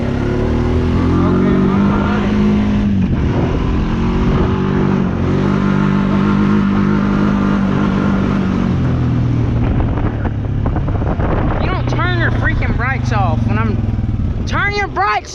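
A 6.7 Cummins diesel pickup truck set up to roll coal, its engine droning loud and close for over ten seconds with rising revs, joined near the end by chirping, squealing sounds.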